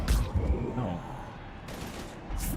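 Gunfire bursts from the video game Mass Effect 3, a rattling volley of shots with low booms, loudest at the start and again near the end, set under a busy battle din.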